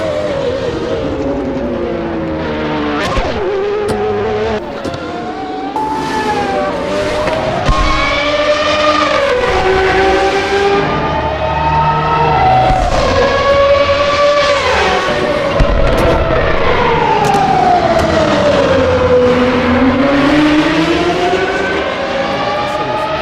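In Assetto Corsa, a car engine revs up and down through the gears as the car drives hard, one loud, close, continuous engine note that climbs and falls with each shift, with no talking over it.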